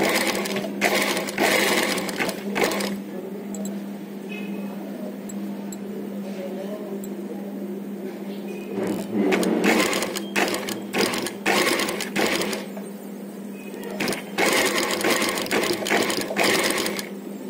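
A sewing machine stitches invisible thread piping in bursts of steady whirring with short pauses between runs, close and moderately loud.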